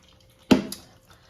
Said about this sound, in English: I'm flushing it.